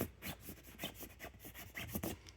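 Scratchy fabric surface of a Lost Horizon 4.5-inch Option 3 camping sleeping mattress pad being rubbed by hand, giving a quiet run of quick rasping strokes, roughly nine brushing passes in a steady back-and-forth rhythm.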